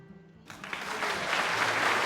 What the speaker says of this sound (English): The audience gives both of you resounding applause upon spotting your arrival.